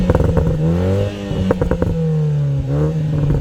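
A BMW Z4 four-cylinder engine revs loudly up and down close by, its exhaust crackling with a burst of sharp pops in the middle and a few more at the end.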